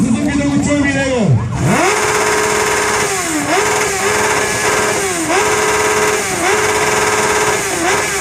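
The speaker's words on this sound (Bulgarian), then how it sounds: "Черната Сузуки да го чуем и него!" Black Suzuki motorcycle at a loudest-bike contest, its engine revving hard and loud in repeated throttle blips with pitch sweeps, over crowd noise and shouting.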